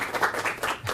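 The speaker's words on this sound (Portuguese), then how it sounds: "Palmas para ele." Audience applause at a coaching talk, a brief burst of steady, fairly close clapping filling the room.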